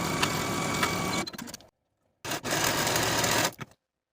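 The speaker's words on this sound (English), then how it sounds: "Sew your seam with a 3/8 inch seam allowance and finish your seam." A sewing machine stitches a sleeve seam on a colorblock dress with a 3/8 inch seam allowance, running in two close, steady bursts of rapid whirring separated by a short pause, then stopping.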